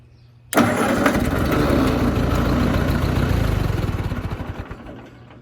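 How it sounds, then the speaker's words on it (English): A Ford 8N tractor engine cranking over on a starting attempt, a steady loud churning of the starter that runs for several seconds and then slows and fades without the engine catching. "We're gonna go ahead and see if she fires."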